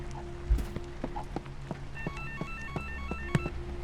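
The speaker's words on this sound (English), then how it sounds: "There's a phone ringing that I gotta answer" In a Polish horror game, Holstin, a telephone rings with a repeating electronic trill over footsteps and low ambient hum, the ringing fairly faint and steady.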